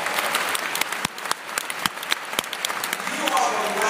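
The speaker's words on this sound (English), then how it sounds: "Give Coach Jordan a round of applause" Applause for a university basketball coach, newly named national coach of the year, fills a large hall at a college new-student event; steady dense clapping across the room with sharp individual claps standing out, rising slightly toward the end.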